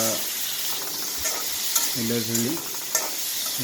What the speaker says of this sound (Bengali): হলুদের গুঁড়া দিয়ে আমরা এখন একটু গুটে নেব, নেড়ে চেড়ে নেব।